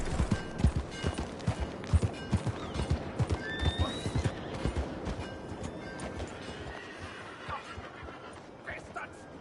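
Horse in the video game Red Dead Redemption, hooves clopping in a steady rhythm with a neigh partway through, close and clear, fading toward the end, with voices heard in the scene.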